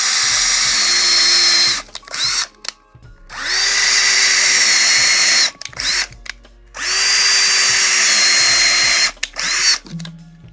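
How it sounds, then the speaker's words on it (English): A power drill bores holes into the internal brace of a DIY three-way speaker cabinet, running loud and close in three long whining bursts separated by short pauses and clicks. "I'm gonna drill a couple holes across here"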